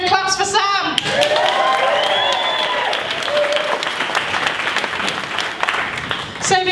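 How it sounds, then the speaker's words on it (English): Audience at the Cheltenham Science Festival bursting into sustained applause, with dense clapping, a few whoops and a crowd murmur, while a bright musical tone glides through it. "Can we have claps for Sam?"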